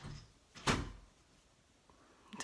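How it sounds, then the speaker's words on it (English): A single door shut indoors, one soft thud with a brief rattle, close but fairly quiet, followed by faint small noises and near-silence. "Just close my door."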